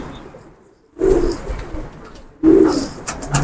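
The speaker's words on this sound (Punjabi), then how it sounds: "ਇਹ ਪੁਰਾਣੇ ਮਿੱਸੇ ਜਾਲਦਾਰ ਕਬੂਤਰ ਨੇ।" Old Kasuri pigeons coo close by, two loud throaty rolling coos about a second and a half apart, with a brief softer call at the end and a quiet gap before the first.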